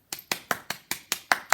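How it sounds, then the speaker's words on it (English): Eight sharp, evenly spaced hand claps ring out alone in a quiet room, each a crisp, bright burst with a short decay, given as a big round of applause at a school celebration assembly. "let's give each and every one of you a big,"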